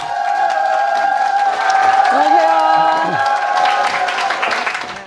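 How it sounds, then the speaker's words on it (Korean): Audience applause and some cheering welcome a guest onto a stage show, blending with a bright musical jingle that plays over the steady clapping throughout. "쿵쿵나리님을 큰 박수로 모시겠습니다"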